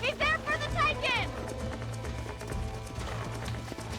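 Horse hooves from a Red Dead Redemption horse, clip-clopping at a steady pace through a busy game soundscape, with someone shouting over them near the start.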